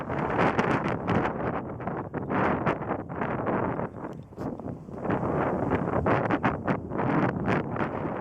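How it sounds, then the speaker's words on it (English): Strong wind buffets the microphone in loud, continuous gusts, roaring and rumbling with brief lulls throughout. "It's very windy here."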